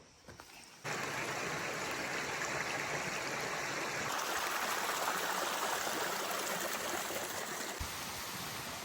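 Waterfall at Raireshwar fort in the Sahyadri hills, a dense continuous roar of falling water that starts abruptly after a brief quieter moment and holds steady and loud to the end.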